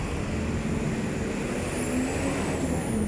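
Bus on a road in the Philippines, a steady low engine rumble and tire noise from nearby traffic, moderate in level and continuous over a few seconds, with no talking.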